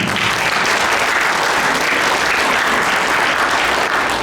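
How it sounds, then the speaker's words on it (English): An inauguration ceremony crowd applauds the state comptroller with loud, dense, continuous clapping that fills the space evenly from start to finish, with no voices rising above it. "Let's give a nice round of applause to our state comptroller, Sean Scanlon."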